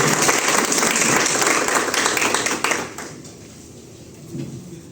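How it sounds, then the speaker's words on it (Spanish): A conference audience gives a warm round of applause to welcome an IMEF president, clapping from a crowd for a few seconds before it drops away into quiet room tone with a faint murmur. "Le damos un recibimiento también cálido con nuestro aplauso"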